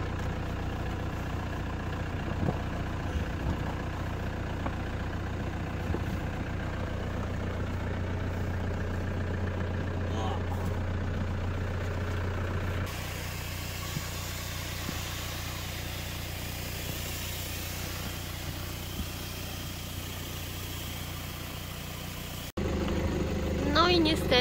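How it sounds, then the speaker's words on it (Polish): Van engine idling with a steady low rumble while an inflatable air cushion jack lifts the vehicle, the drone continuous and fairly close, with people talking over it and a louder burst at the end. "wypróbuje nowy sprzęt, taką poduszkę do podnoszenia samochodu"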